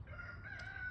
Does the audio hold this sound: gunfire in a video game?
no